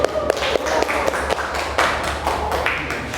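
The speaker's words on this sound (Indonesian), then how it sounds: "Kita beri aplaus dulu ya" A classroom gives a short round of applause for a student group returning to their seats: loud, uneven clapping with sharp overlapping claps that stays steady for a few seconds.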